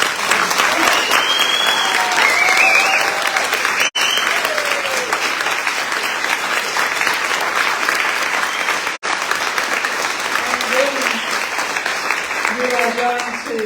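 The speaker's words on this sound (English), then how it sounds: "Put some applause for them." An audience at a forum on preventing violence against women applauds a panel: sustained, loud, even clapping from a large crowd filling the whole stretch, with a couple of brief dips.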